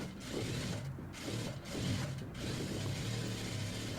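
A sewing machine stitches blouse fabric at a tailoring table, a steady close mechanical whirr and clatter running almost continuously, with two or three brief pauses.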